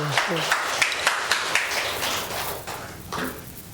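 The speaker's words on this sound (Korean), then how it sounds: "네, 우리 하나님께 박수" A church congregation clapping briefly in a service, a short patter of hands, fairly close, with speech mixed in and the clapping thinning out toward the end.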